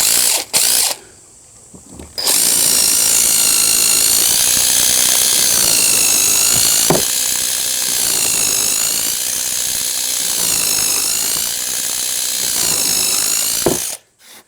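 A DeWalt DCF887 cordless impact driver starts with a brief burst and pause, then runs in a loud, close, sustained whine for about twelve seconds with slight pitch shifts, then cuts off.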